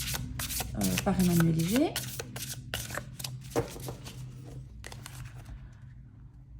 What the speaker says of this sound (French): On va positionner donc sa carte dans les positions indiquées